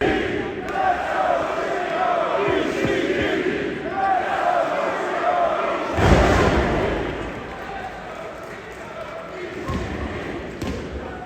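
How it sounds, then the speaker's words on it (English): Live New Japan Pro-Wrestling crowd at a Royal Quest show, split between Ishii and Shingo, roaring and chanting in a large arena with thuddy impacts and a loud surge midway. "Just showing how split the crowd was between Ishii and Shingo throughout"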